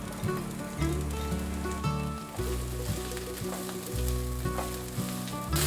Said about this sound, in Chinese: 开中火，把香菇和猴头菇炒香。